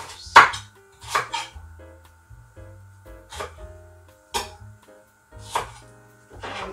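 A knife rough-chops onions on a cutting board for a quick stir fry, landing about seven distinct, evenly spaced thuds at a steady, unhurried pace, close by with no talking.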